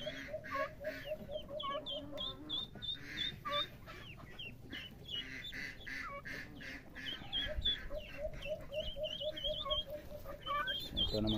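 A mother hen clucks in soft repeated bursts while her chicks peep in high, quick chirps around her. Clear and near, with a few louder squawks toward the end.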